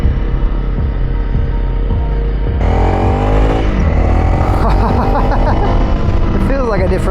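Honda CRF300 Rally motorcycle fitted with an SSS Stage 2 kit (twin air filter, second snorkel, SSS ECU) riding, a steady loud engine drone that rises in pitch through the gears with heavy wind noise and a rider talking over it.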